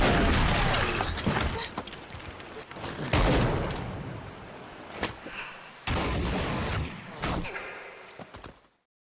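Film gunfight between gangsters: bursts of loud gunfire and heavy impacts in several dense clusters, with crashing debris between them, close and intense, fading out at the end.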